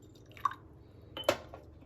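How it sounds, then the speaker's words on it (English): Espresso poured into an empty cup makes two brief, quiet liquid splashes close by, with stillness in between. "So here I have espresso, an empty cup. I'm going to pour half in,"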